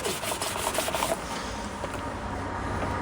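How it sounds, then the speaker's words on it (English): Steady, close rasping of sandpaper rubbed back and forth over body filler on a Ford Focus Mk3 car bumper, brisk strokes at first, then a continuous scratchy hiss. "He's just got the filler in, just sanding it down, trying to get it level"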